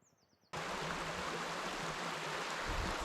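Steady rushing river water in Loxley Valley near a bend with a small waterfall, a dense, continuous roar that starts abruptly and stays loud and close throughout.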